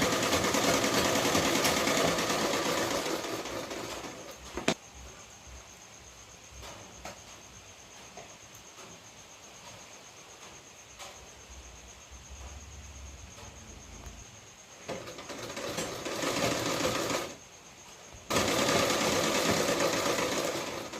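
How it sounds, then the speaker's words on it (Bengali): A sewing machine stitching princess cut blouse pieces together runs in close, steady whirring bursts at the start and again near the end, with a long quiet stretch between them. "এখানে আমি সেলাই করে জোড়া লাগিয়ে দিলাম"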